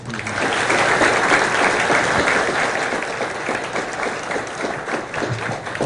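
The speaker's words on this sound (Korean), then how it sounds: "우리 대한민국 금융산업의 미래를 위해서 열심히 뛰시는 최현만 회장님께 다시 한번 박수 한번 부탁드립니다." A university student audience claps after a lecture by a financial-company CEO, Mirae Asset's vice chairman. The applause is loud and sustained for several seconds and tapers slightly toward the end.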